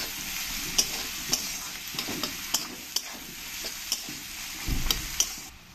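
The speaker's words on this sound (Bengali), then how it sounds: "পেঁয়াজের মধ্যে দিয়ে দেবো একটু লবণ, তাহলে আমার পেঁয়াজটা একটু তাড়াতাড়ি ভাজা হয়ে যাবে" Chopped onion with a pinch of salt fries in a pan for a Bengali rohu fish curry, giving a steady hiss of sizzling oil. A spatula scrapes and clicks against the pan now and then, close up, with no voices.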